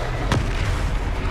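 A single sharp blast from the Confringo spell in Hogwarts Legacy cracks out loud and close, a sudden burst over a constant booming game soundscape.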